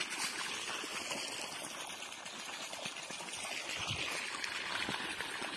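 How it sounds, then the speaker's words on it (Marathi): Irrigation water flows steadily through a farm field planted with guinea grass, a soft continuous trickling and gurgling wash heard at a low, even level throughout with no voices. "तर असं पाणी चालू केलेलं आहे"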